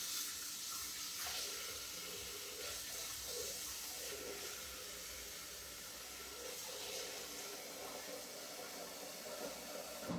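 Water running into a Thermomix TM7 bowl with soap for a pre-clean, a steady hissing splash that continues evenly and closely for the whole stretch, with no talking.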